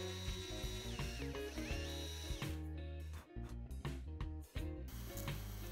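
A small drill bores a 1.5 mm hole in the rivet post of a die-cast Matchbox 26b Foden cement mixer barrel, a close whirring motor whine rising and stopping in short bursts.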